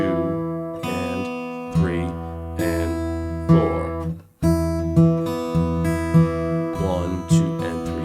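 Acoustic guitar fingerpicking pattern plays steady, clear plucked notes over repeating bass notes, with a brief pause near the middle before the pattern resumes; a voice counts the beats quietly underneath.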